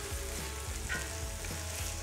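Arborio-style risotto rice simmering with dry Riesling wine in a pan, a steady close sizzle broken by soft periodic scrapes of a spoon stirring, with no talk.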